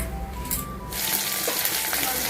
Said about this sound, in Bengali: এদিকে পিঠেও ভাজা চলছে